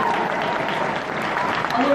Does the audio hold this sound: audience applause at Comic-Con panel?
yes